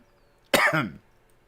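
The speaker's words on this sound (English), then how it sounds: "Again, I apologize for the coughing." A single close, harsh cough burst from a person with allergies, brief and loud against a quiet background.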